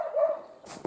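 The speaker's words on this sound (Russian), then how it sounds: "Она лает." Aida, a pregnant, vocal village dog, gives a couple of short, fairly close barks and yelps at a moderate level, with a whining tone leading in and a quick bark at the end.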